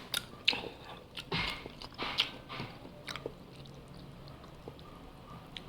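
Someone eats hot pancit noodles close up, with soft wet bites, chewing and slurping noises coming in a few quick clusters before trailing off into quiet.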